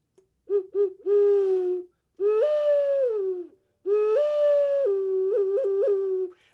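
A clay ocarina from Peru imitates an owl with a series of hollow hooting tones: quick short hoots, then long sliding notes, played alone and close.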